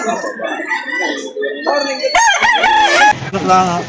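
A seven-month-old rooster crows loudly and close at a fowl market in Lipa City, Batangas, a long strained call, with people talking and other birds clucking around it.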